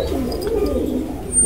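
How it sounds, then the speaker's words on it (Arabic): Pigeons from a fancy-breed loft coo softly and steadily, a low continuous murmur close by with a faint high chirp near the end and no voices. "هنعرض مجموعه مميزه قوي من حمام جزار"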